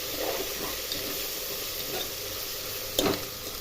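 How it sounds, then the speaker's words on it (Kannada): Soya bean biryani masala with salt sizzles steadily in a pan while being stirred, a constant frying hiss with a few soft scrapes and one sharper knock near the end. "ಉಪ್ಪು ಹಾಕಿ ಚೆನ್ನಾಗಿ ಮಿಕ್ಸ್ ಮಾಡ್ಕೋಬೇಕು."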